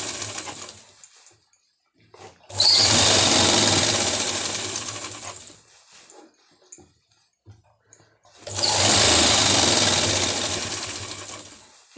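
An electric sewing machine stitches fabric for a circular palazzo in two long bursts of steady whirring and needle clatter, close and loud, separated by quiet handling of the cloth.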